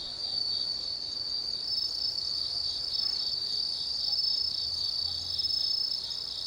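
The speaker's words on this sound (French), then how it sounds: "Lorsque le soir tombe, les insectes de l'automne entament leur concert." Autumn insects chirp at evening in a 17th-century Japanese castle garden, a dense continuous high trill of crickets holding steady throughout with no voices.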